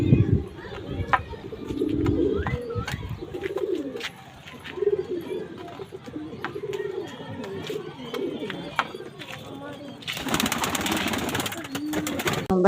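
Pigeons coo in low, rolling calls through much of the scene, with scattered sharp clicks and a burst of broadband noise near the end, all close and moderately loud.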